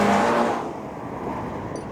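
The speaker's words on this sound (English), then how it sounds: "you'll see that the 86 gets a significant jump off the line before the GTI eventually blows by it" A Toyota GR86 and a Mk8 VW GTI pulling away hard from a standing start, a loud engine roar fading slightly as they move off, with a brief high squeal near the end.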